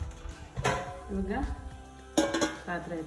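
A metal cooking pot is set down on a gas stove while making Mangalore-style brinjal sambar, with a few loud clanks and scrapes of metal on the burner grate, under a woman's speech.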